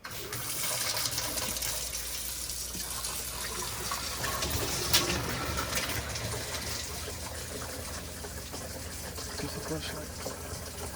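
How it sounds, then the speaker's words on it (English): Water runs into a newly installed sink in a Winnebago Navion RV, a steady faint hiss and gush continuing throughout while a person speaks briefly. "turn the water back on."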